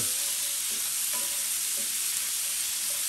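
Chopped onions fry steadily in a hot pan for a Guinness Irish stew, with a continuous bright sizzle and a few soft stirring clinks, close and alone without any voices.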